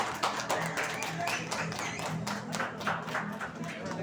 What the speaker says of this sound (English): Yes, give it a clap.